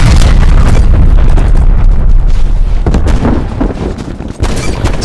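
Artillery barrage in Call of Duty Black Ops Cold War, a continuous heavy rumble of booming explosions, very loud at first and easing slightly toward the end.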